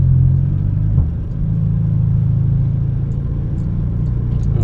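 A 2016 BMW 320i Sport with a Stage 2 tuned 2.0 turbo engine runs steadily with a deep, even rumble. The hum stays loud and constant and dips briefly once early on.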